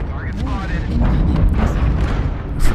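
A mech weapon fires in MechWarrior Online, an Assassin mech's shot landing as a dull boom amid a dense rumbling battle din, with a brief louder burst near the end.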